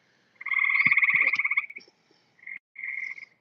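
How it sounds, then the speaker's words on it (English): Chorus frogs calling outdoors, a long trilling pulsed croak followed by two shorter trills, fairly close and clear with no talking. "these are chorus frogs from what I'm understanding"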